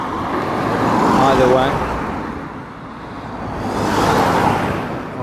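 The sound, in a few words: road traffic passing near Avebury stone circle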